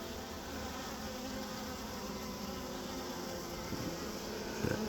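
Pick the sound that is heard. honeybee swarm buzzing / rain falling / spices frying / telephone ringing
honeybee swarm buzzing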